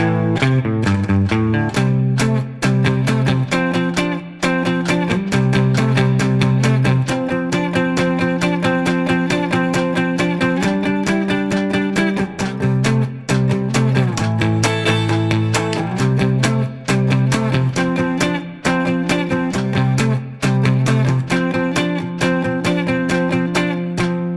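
Guitar plays a song at a steady tempo, with strummed chords and picked bass notes in a continuous, even rhythm, loud and close, with no talking.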